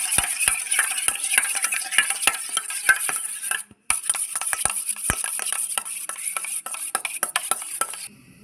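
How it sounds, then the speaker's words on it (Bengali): Fish chop mixture with salt and homemade chili flakes is stirred in a bowl, a quick run of sharp utensil clicks and taps against the dish under a faint hiss, with one short pause. "এটা মিশিয়ে নিচ্ছি"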